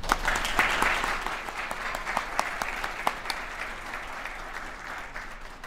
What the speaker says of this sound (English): Please join me in a round of applause for our distinguished guests.